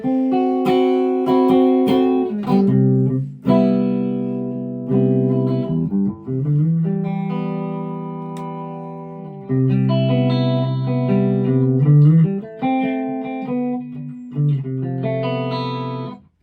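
Electric guitar with a humbucker pickup played through a Mesa Mark IIB+ amp: loud, sustained chords and single notes ring out alone in bursts with short gaps, the tone shifting between clean and distorted.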